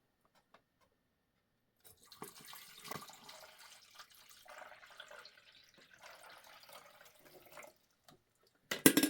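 Water runs from a tap to fill a vessel for brewing coffee, a steady close splashing stream lasting several seconds before cutting off, then a brief clatter at the end.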